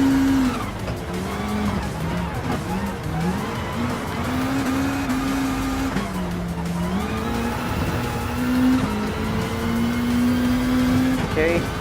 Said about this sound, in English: looks like third lap is going to be the final lap, because this Pickle Rick livery is going to make its way for the win